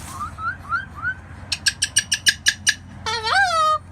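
A Moluccan cockatoo calls outdoors: a few rising whistled notes, then a rapid burst of sharp, harsh squawks, ending in a long, wavering screech, loud and close with no talking.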